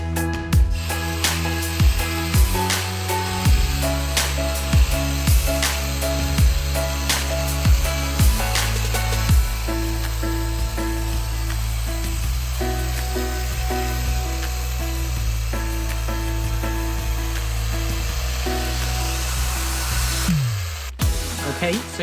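STIHL HSA 94T cordless hedge trimmer cutting through a dense Texas hedge, a continuous close buzzing cutter whine with repeated short snapping and crackling as branches are sheared, running steadily for about twenty seconds.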